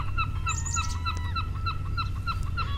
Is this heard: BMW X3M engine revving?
no